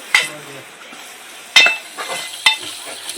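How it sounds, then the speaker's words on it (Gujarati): Gravy being stirred in a pan with turmeric added, with a few sharp scraping clinks of the utensil against the pan over a faint sizzle. "થોડી હળદર નાખશું, થોડીક વાર હલાવશું"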